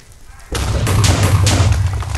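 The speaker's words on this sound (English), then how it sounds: "So those are immune to explosions." A sudden loud blast kicks off a sustained, rumbling roar of noise with deep low-end thudding, like continuous explosions and destruction in a game.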